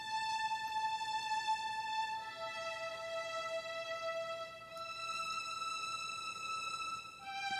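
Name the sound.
Spitfire Audio Appassionata violins string sample library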